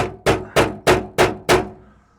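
Five evenly spaced, ringing metal strikes close up, a hammer driving a nail as a makeshift center punch into a metal trailer part, with the last hit fading out.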